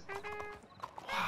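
Hooves of a horse in Red Dead Redemption 2 clop a few times at close range, mixed with brief tonal whinny-like sounds and game ambience.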